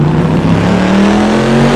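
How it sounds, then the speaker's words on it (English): A Corvette race car engine at an endurance race rumbles loudly and close, a deep throaty growl rising slightly in pitch as it accelerates. "hear that grumble there of the Corvette"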